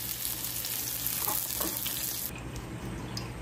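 Vegetables for aloo capsicum curry fry in a pan with a bright, steady sizzle, close and moderately loud, which thins out near the end.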